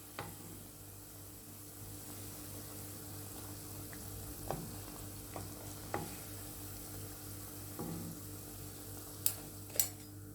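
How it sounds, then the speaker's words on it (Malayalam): Egg onion pakoda fry in hot oil, a soft steady bubbling sizzle heard close up and fairly quiet, broken by a few light taps and clinks of a utensil near the end. "ബാക്കി പക്കവടയും ഇതേപോലെ തന്നെ ഫ്രൈ ചെയ്തെടുക്കാം."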